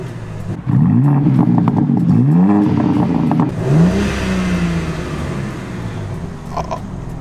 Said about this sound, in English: So for a stock car, let's give it a little rev.